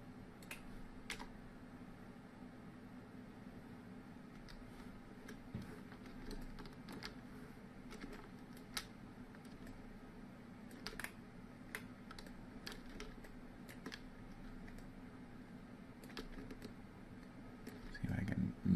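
Computer keys tapped out in short scattered clicks while modeling in Blender, quiet and close, with sparse bursts of a few keystrokes and pauses between them over a low background hum.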